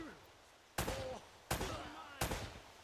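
AK rifle fire in Uncharted: Drake's Fortune: three loud, sharp single shots about a second apart, each cracking out and trailing off into a short echo over a quiet background.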